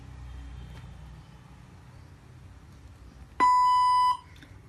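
A language translator robot gives a single loud electronic beep, a clean steady tone lasting under a second that follows a quieter stretch of background noise.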